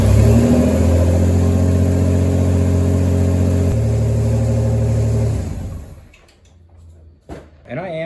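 A 2.8 V6 Pontiac Fiero engine with a freshly swapped alternator running at a steady drone that rises briefly, then cuts off, leaving quieter clunks and a short burst of speech near the end.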